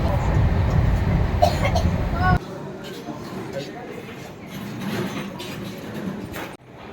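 Sealdah–Puri Duronto Express running, a steady low rumble and rattle of the moving train that drops to a quieter interior hum partway through, with faint voices among passengers.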